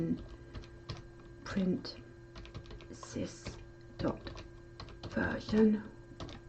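Keys clatter on a computer keyboard as Python commands are typed, with quick irregular bursts of clicks running under close-up talk.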